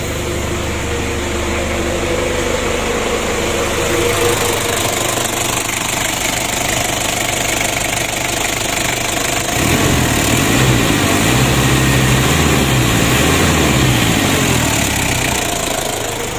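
An overheating car engine, blowing heavy exhaust smoke, idles loudly and steadily at close range with a rough, knocking mechanical rattle, its tone shifting partway through; nobody speaks.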